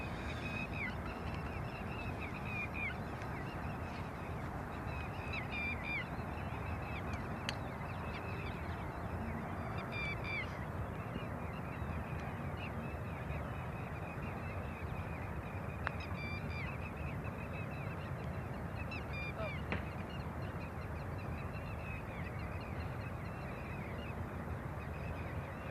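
Nesting birds on a golf course during a professional tournament in Abu Dhabi call repeatedly from nearby, with goose-like honks and crow-like caws over a steady outdoor background.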